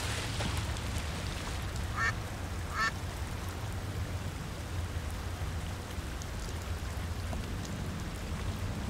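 Ducks in the adventure game Secret Files 2: Puritas Cordis give two short quacking bursts near two and three seconds, set against a steady wash of rain and low ambient rumble.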